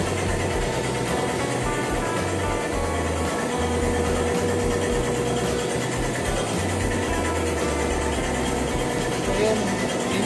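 A continuous printing press thunders steadily in a print shop, a dense unbroken mechanical roar with a low repeating thump throughout.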